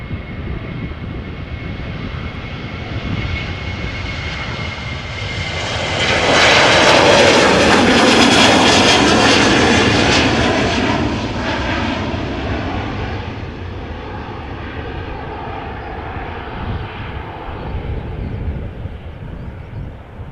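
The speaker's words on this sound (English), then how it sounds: "This is a Boeing 737-700 destined for Zurich in Switzerland." Boeing 737-700 jet passing at an airport, bound for Zurich: a steady broadband roar of engines swells to a loud peak midway, then fades back to a lower rumble, with no talk over it.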